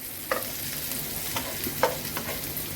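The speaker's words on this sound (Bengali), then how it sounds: "আর এই যে মরিচ, পেঁয়াজ, রসুন দুটো একসাথে কাজ করতেছি, শোনো।" Chili, onion and garlic sizzle in a pan while being stirred, a steady frying hiss broken by several sharp scraping strokes of a spatula, with no speech.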